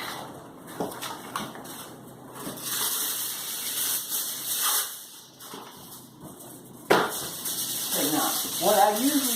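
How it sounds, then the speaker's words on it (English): Cooking spray hissing onto aluminum foil in a kitchen, several close bursts of spraying mixed with foil rustling and a voice speaking. "I spray my aluminum foil"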